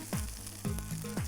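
Food fries in butter in a pan, giving a steady close sizzle. Three brief clinks or scrapes of a utensil sound at regular intervals, and no one speaks.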